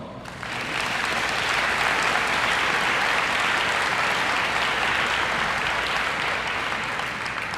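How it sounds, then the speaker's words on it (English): Senior honors night audience giving guests a round of applause, a full, steady roar of many hands clapping that swells in within the first second and holds evenly before easing slightly at the end. "Please take a minute to recognize our guests with a round of applause."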